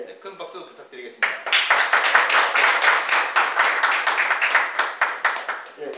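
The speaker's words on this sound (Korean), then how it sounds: "큰 박수 부탁드리겠습니다" Lecture audience applauding a speaker's introduction, the crisp individual claps of a modest indoor crowd starting after a few spoken words and continuing steadily to the end.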